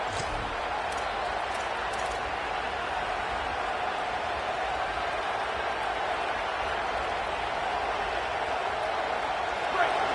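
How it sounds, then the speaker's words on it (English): A football stadium crowd on 1st and goal roars steadily as a dense, loud wash of noise, unbroken for the whole stretch with no break or lull. "This offense trying to quieten the crowd on 1st and goal, and they are not cooperating"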